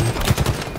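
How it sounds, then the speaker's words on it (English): Rapid gunfire in Halo Infinite multiplayer, a dense, loud burst of automatic shots packed tightly together in under a second. "What the fuck is he shooting me with?"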